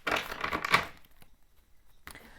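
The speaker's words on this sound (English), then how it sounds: "Let me just shuffle this really quickly" Gilded Tarot cards being shuffled by hand, a quick burst of close papery riffling and flapping that stops abruptly, followed by a short rustle.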